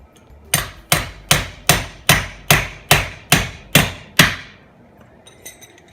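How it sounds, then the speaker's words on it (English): A hammer drives a nail into trim board with about ten sharp, evenly spaced strikes in a steady rhythm, loud and close, followed by a few faint taps. "So basically, hammer it in right there."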